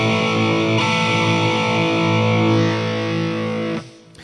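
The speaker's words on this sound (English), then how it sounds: "you can hear that the mic is being moved to the outside." Heavily distorted electric guitar through the Amp One iOS amp simulator with the mic moved to the outside of the speaker, a thick sustained chord ringing loud, then abruptly stopping near the end.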